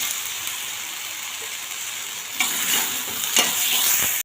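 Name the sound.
tomatoes added to hot oil, sizzling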